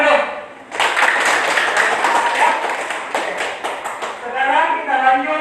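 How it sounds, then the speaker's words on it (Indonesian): A group in a classroom-style gathering breaks into clapping, a dense patter of hand claps that swells and thins over several seconds, with voices mixed in. "Tepuk tangan dulu."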